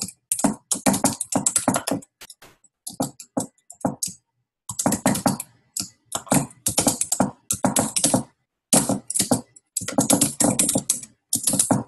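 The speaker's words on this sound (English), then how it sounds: "I'm typing away" Bursts of computer keyboard typing while a blog post is written, quick irregular clatter of keys close to the mic, stopping and starting in short runs with brief silent pauses, no talking.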